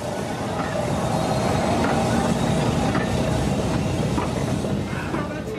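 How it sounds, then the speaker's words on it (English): A train rolls past on the railway, a continuous heavy rumble with faint clickety-clack of wheels over rail joints, loud and steady throughout. "They can't eat these trains, but they can at least feast their eyes upon them."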